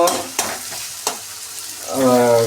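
Onion and tomato frying in a pan, a soft sizzle broken by a few sharp stirring taps before a voice begins talking near the end.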